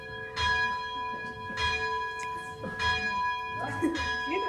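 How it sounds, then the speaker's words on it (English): A broken church bell struck repeatedly, with four clanging strikes at roughly one-second intervals and long ringing tones between them, while people murmur and talk faintly in the background. "That's the broken bell."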